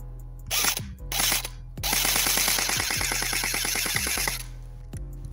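Gun fired in rapid bursts at a target, three loud close strings of fast regular shots separated by short gaps, with faint mechanical clicks between bursts.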